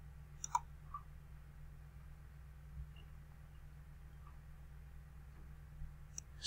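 A few faint, sharp computer mouse clicks stand alone over a steady low hum, one near the start and another at the end, with long quiet gaps between them.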